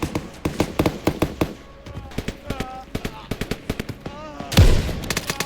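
Sniper rifle gunfire in a video game: a quick, regular string of loud, close, snappy shots, sometimes doubled, with a heavier blast near the end and faint game tones between them.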